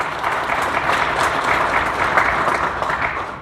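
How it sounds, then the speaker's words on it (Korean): Sustained audience applause at a Christian culture award ceremony, honoring three award winners; dense, steady clapping from a crowd throughout, loud and even with no talk over it. "세 분의 수상자에게 다시 한번 크게 박수로 축하해 주시면 좋겠습니다"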